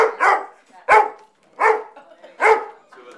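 A dog barks at puppies, four loud, sharp barks spaced evenly at close range with short quiet gaps between them.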